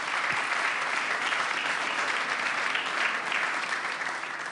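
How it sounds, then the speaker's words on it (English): Steady, dense applause from a large audience at the Munich Security Conference for a panel, filling the whole stretch at an even level without a break. "Let's give a huge round of applause to our panel."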